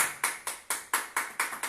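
A congregation at a church service claps together in steady rhythmic unison, about seven sharp, even beats in quick succession.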